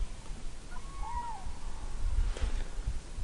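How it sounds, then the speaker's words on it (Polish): A faint crane call drifts in from a distance over low outdoor rumble at a fishing spot in autumn, a brief trumpeting cry with no voices nearby. "Słychać już żurawie, czyli nieuchronna jesień."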